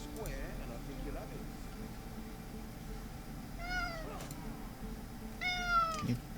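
A cat meows twice inside a fantasy role-play game, clear rising-and-falling calls standing out over game ambience and a talking voice.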